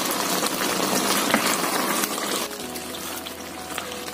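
Chicken with mustard seeds and onions simmers in a pot, giving a dense, steady bubbling hiss that eases slightly partway through, with no voices.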